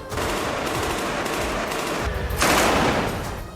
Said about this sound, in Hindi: इससे पहले उन्होंने मकान के अंदर खूब गोलियां चलाई।